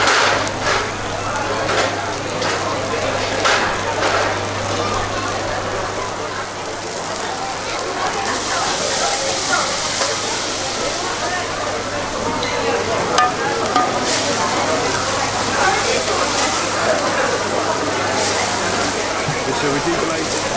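Battered paneer pieces frying in hot oil in a street-food kitchen, a steady broadband sizzle with stirring and scraping throughout, a low steady hum beneath, and people talking at times.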